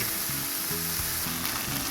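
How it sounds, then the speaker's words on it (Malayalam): Beef pieces frying in coconut oil for a Kerala beef fry, producing a loud, dense, continuous sizzle close up, with faint stirring scrapes and no talking. "ഒന്നുകൂടി കുറച്ച് വെളിച്ചെണ്ണ ഒഴിച്ച് നമ്മളത് ഫ്രൈ ചെയ്ത് എടുക്കുകയാണ്."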